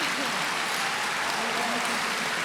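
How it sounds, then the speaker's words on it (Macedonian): A festival audience applauds the event's team at the Zlatna Buba Mara 2019 gala, a steady wash of clapping throughout, with faint voices underneath. "Ќе ве замолам аплауз за екипава која е тука"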